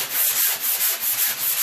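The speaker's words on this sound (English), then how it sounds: "then I'm gonna sand the edges a little bit" A foam pool-toy sanding block, its hard side wrapped in sandpaper, rubs along a workpiece's edges in steady back-and-forth strokes, about seven quick rasping passes, close and fairly loud with no voices.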